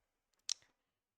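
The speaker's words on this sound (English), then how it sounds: "you could do it by clicking this button right here" A single crisp mouse click on a button, close and isolated in a quiet room, followed by a faint softer tick.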